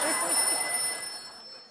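A telephone rings with a bright, steady trill that fades out after a second or so.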